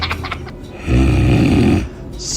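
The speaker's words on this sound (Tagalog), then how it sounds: "Sabay hilik." A single loud snore rumbles for about a second, close and deep, set between quieter stretches of room noise.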